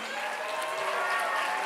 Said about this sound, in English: Round of applause for our team.